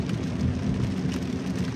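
Rain patters steadily on a Subaru Solterra electric car while driving, heard from the quiet cabin as a soft, continuous wash over a low road rumble.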